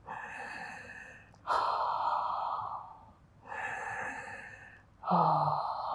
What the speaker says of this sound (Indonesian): Tiga napas.